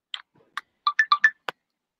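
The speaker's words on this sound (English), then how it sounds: "Switch off, silent your mobile phone." A mobile phone ringtone interrupts a class, a short electronic melody of bright beeping tones in a quick pattern, clear and alone against silence.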